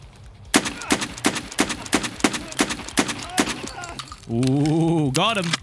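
Rapid bursts of gunfire from flechette ammunition in the shooter game Escape from Tarkov, a string of sharp loud cracks at irregular intervals, followed by a brief droning tone and a spoken exclamation.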